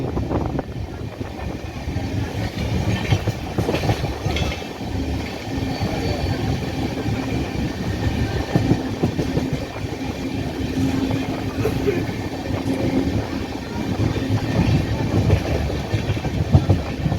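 The Kulik Express, 13054, runs on the approach tracks into Howrah, heard from on board as a continuous rumble with rhythmic wheel clatter over rail joints, close and fairly loud throughout.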